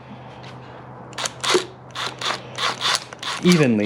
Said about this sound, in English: I'm gonna turn it down to the lowest setting, and just basically to speed up my process, I am going to snug these bolts